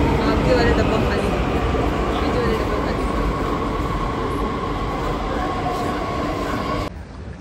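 Metro train noise at a station near Ghaziabad, a steady loud broadband rumble of a moving train that runs for several seconds and then drops off sharply near the end.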